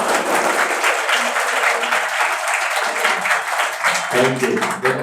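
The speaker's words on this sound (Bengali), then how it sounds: "দিদির জন্য একটা হাততালি হবে" Sustained loud applause from a group of students rings out for the cook, steady clapping throughout with a few voices rising near the end.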